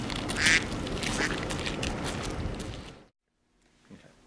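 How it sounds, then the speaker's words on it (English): Ducks quack on a flooded roof covered in standing water, with a loud burst of quacks near the start over a wash of outdoor noise before the sound drops to near silence. "It's a duck party on the roof."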